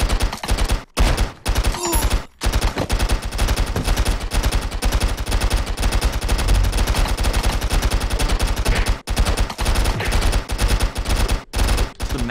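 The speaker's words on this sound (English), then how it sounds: "massive clusterfuck of gunshots" Dense, rapid gunfire from the online stick-figure shooter game Stick Arena Dimensions rattles almost without pause, with many overlapping shots and only a few brief gaps.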